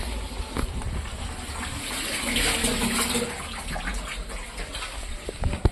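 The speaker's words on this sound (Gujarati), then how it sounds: "ચકલી બંધ દે પાણી નહીં" Water runs from a tap in a continuous splashing stream, swelling briefly midway, with a few knocks and clatters nearby.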